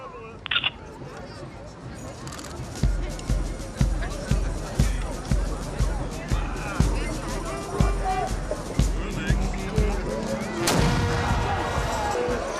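A city cannon fires evenly spaced booming salute shots at steady intervals, about one per second, over a noisy carnival crowd of chatter in Maastricht.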